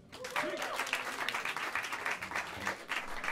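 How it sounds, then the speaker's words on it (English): Jazz club listeners clap for a bassist, a brisk, even wash of handclaps close by with brief vocal whoops at the start and faint chatter beneath. "Clap it up for Alberto Miranda on bass."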